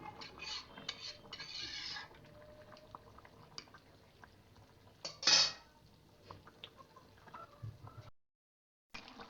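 A pot of tengra fish curry with radish simmers with a soft bubbling hiss, broken by scattered clinks and a single loud metallic clatter as a lid is set over it, then a brief silence.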